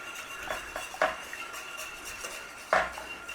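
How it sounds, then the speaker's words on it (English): A utensil stirs a flour-thickened red enchilada sauce in a pan with soft scraping, then a couple of sharper clinks against the pan's metal, close and alone with no talk. "So give it a nice little stir around."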